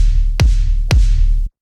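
Two deep electronic kick drum hits from the PRISM Retro Pop plugin by AVA Music Group, about half a second apart, each with a sharp click and a falling sub-bass boom over a sustained low bass tone.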